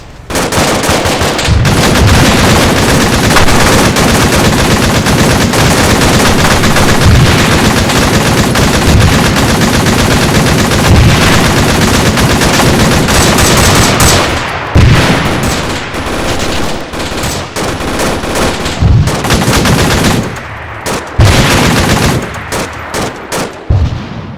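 Sustained automatic machine gun fire from the military game Arma 3, loud and dense with rapid overlapping bursts and gunshots for most of the clip, thinning into separated bursts with brief gaps toward the end.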